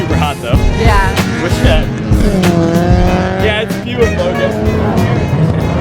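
A car spins through a 360-degree drift at night, tires squealing loudly and continuously while the engine revs close by. Voices talk over the noise.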